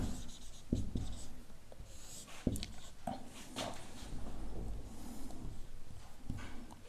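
Handwriting on paper with pen or pencil while a maths lesson on cylinder volume is worked out, a steady scratchy scribbling with small taps and strokes running throughout, close and fairly quiet.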